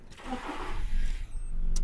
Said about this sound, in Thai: บิดกุญแจสตาร์ทได้เลยนะครับ